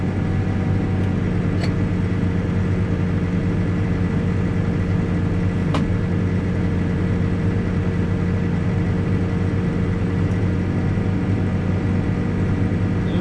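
A Kubota excavator working in gravel and digging rock gives off a steady low engine drone with a constant hum. Faint metallic clicks stand out now and then, and no voices are heard.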